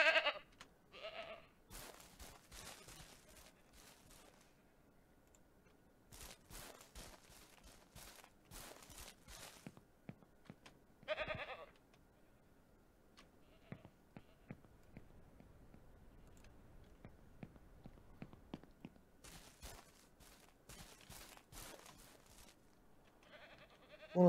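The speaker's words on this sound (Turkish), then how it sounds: "Bu keçilerle var ya başımız belada ya." Farm goats in the Ranch Simulator video game bleat in several separate bursts over a quiet background, with soft footsteps and small clicks between the calls.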